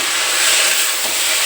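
Banana flower sizzling loudly as it is stirred into a hot pan of spiced mixture, a steady broadband hiss of frying with no speech.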